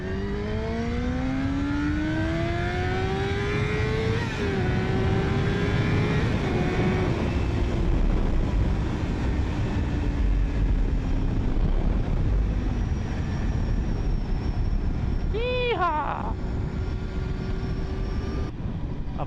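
A Yamaha R6 sport motorcycle accelerates hard, its high engine whine sweeping upward through the gears in rising, continuous pulls, loud and close with no voices.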